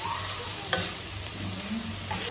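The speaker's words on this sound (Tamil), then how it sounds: "கொத்தமல்லி ரொம்ப வதக்கணும்னு அவசியம் இல்லைங்க, லேசாக வதக்குனீங்கன்னா போதும்" Coriander leaves sautéing lightly in a pan for tomato chutney, with a low continuous sizzle and a couple of short spatula scrapes, no voices present.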